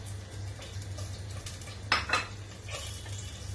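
Onions go into hot ghee in a pan for an okra and meat stew, a soft frying hiss under clinks of a utensil against the pot and a couple of sharper scrapes.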